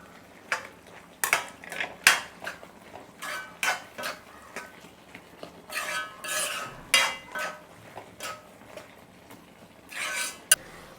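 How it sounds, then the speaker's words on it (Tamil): A spoon scrapes and stirs squid gravy with curry masala in a metal pot, with irregular clinks and scrapes close by, coming in short bursts. "கறி மசாலா எல்லாம் சேர்த்து மிஸ் பண்ணுறேன்"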